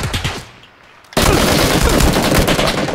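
Automatic gunfire in the video game PUBG erupts after a brief quieter stretch into a loud, continuous rapid burst of shots lasting nearly two seconds, with no talking.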